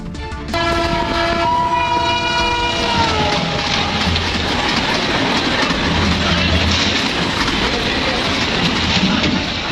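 A train sounds its loud, sustained horn at a crowded railway station in Buxar, then rumbles along with steady wheel and carriage noise under the bustle of a panicked crowd.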